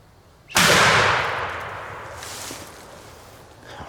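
A single loud, close shotgun blast fired at a wild turkey gobbler during a spring hunt in South Carolina, cracking sharply and then echoing and fading away over several seconds outdoors.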